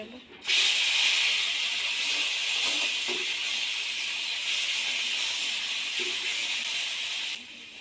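Ground onion paste hits hot oil with lightly fried whole cumin, bursting into a loud sustained sizzle that holds steady and close, with a few faint clinks in the pan.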